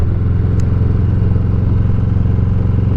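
A Harley-Davidson Heritage Classic motorcycle fitted with a Vance & Hines Eliminator 300 exhaust idles close by, a loud, steady, deep rumble with an even throb that holds throughout without revving.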